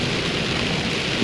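Heavy rain pours during a tropical storm at night by dumpsters, a dense, constant wash of noise filling the scene with no break or distinct drops.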